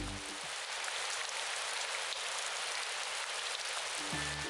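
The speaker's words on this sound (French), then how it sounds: "Il se mit alors à pleuvoir." Steady rain pours down as a narrated children's fairy-tale sound effect, a dense even hiss of drops hitting a surface that holds unbroken throughout, with a brief tonal sound at the start and end.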